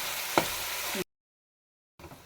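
Onions sizzle as they brown in a pan, a dense steady hiss with a stir near the start, then a second of silence before the frying resumes more faintly.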